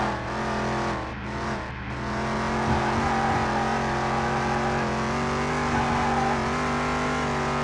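Car engine droning steadily while lapping a race track in Car Mechanic Simulator 2021, holding a constant loud tone with slight pitch shifts and brief dips in revs.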